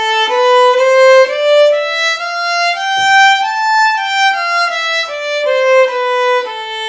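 The A Aeolian mode, the natural minor scale starting on A, is played note by note on a bright, sustained tone. The notes climb steadily and then descend, each sounding clearly and alone.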